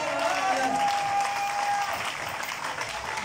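A church convention congregation bursts into sustained applause, dense and steady throughout, with a faint voice and a thin tone under the clapping.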